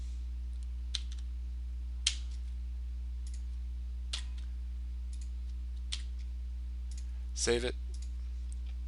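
Single computer mouse clicks in routing software come a second or two apart, quiet and close over a low electrical hum, followed by a short spoken phrase.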